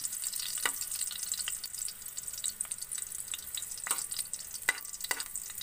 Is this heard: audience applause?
no